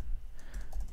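Quiet keystrokes on a computer keyboard, a short run of light, close clicks typed while setting up a Jakarta EE project in the Eclipse IDE.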